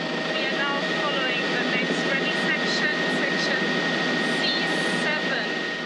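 A helicopter hovers over the Kenya Safari Rally, its engine and rotor giving a loud, steady whine and roar throughout, with a voice talking over it.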